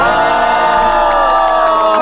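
A crowd at a playful medal ceremony cheers loudly, a dense, sustained roar of many voices with whoops held steady across the short moment, near and forceful; no distinct clapping stands out.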